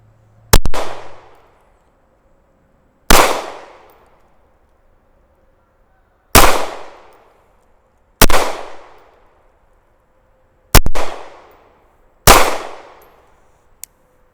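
Six loud single gunshots fired slowly and evenly at steel shooting targets on a tactical range, each a sharp crack with a ringing decay, no talking.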